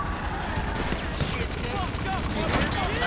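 Constant gunfire in the video game GTA 5 clatters in a dense, unbroken barrage, with mechanical noise mixed into the busy, loud battle.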